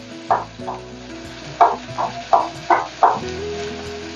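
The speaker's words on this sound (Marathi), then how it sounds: "तेल आता गरम झालेलं आहे त्यामध्ये कांदा टाकून घेऊया कांदा थोडा परतून घेऊयात" Chopped onion sautéed in hot oil for a green chilli and dried shrimp bhaji, with about seven distinct spatula scrapes over a low, steady sizzle, close and without voices.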